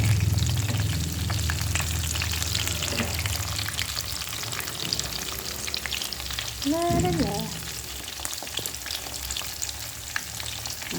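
Chicken nuggets frying in hot oil, a steady loud sizzle and crackle throughout, with occasional scraping and stirring clatter from a utensil in the pan.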